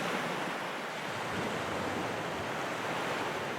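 Ocean surf rolls in a steady, unbroken wash of broadband noise, soft and continuous like waves breaking at a moderate distance, with a faint windy hiss over the top.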